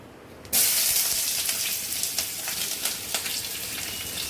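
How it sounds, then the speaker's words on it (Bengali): Chopped onion and green chilli hit hot oil with a sudden loud sizzle, then keep frying in a steady crackling hiss with small pops and spits, close and alone without talk. "দেখো আমার তেল গরম হয়ে গেছে তো আমি পেঁয়াজ আর লঙ্কা কুচিটাকে আগে দিয়ে নেবো"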